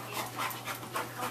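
A dog pants softly and rhythmically, several quick breaths in a row, close by and faint, with no voices.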